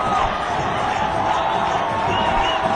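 A steady roar of cheering from the crowd at a youth football final in Laos fills the air continuously, dense and unbroken, with a commentator's voice running over the noise.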